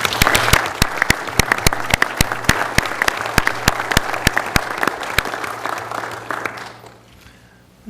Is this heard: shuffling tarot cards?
no